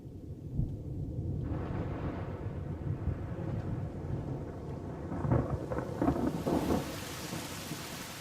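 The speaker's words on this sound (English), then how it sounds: "On the Masai Mara, the storms of October approach." Steady rain with low rolling thunder throughout on the Masai Mara in October, swelling louder near the end as the storm draws closer.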